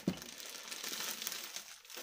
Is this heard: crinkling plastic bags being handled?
yes